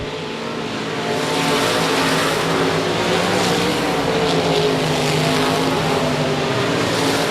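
Race cars roar past on the I-37 Speedway oval in a loud, steady, dense wash of engine noise that holds for several seconds with no break and no voices.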